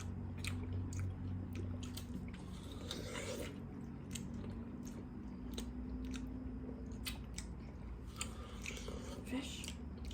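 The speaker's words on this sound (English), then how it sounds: "You're chewing, probably." Someone chews crunchy chicken lollipop close up, with repeated sharp crunching bites and wet chewing scattered across several seconds over quiet background noise, a voice faintly present at times.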